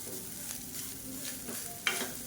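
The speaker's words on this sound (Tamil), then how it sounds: "நல்லா கலந்து விட்டுக்கலாம்" Cooked everyday home rice being stirred with a spice mix in a pan for vazhakkai rice, giving continuous scraping and soft sizzling with a sharper clink near the end, close up and without talk.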